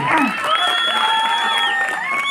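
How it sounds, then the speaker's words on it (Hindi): An audience at a Hindi comedy poetry event claps and cheers continuously, a dense wash of applause with scattered shouts and whistles, filling the room steadily throughout. "ताली बजाओ यार। ताली।"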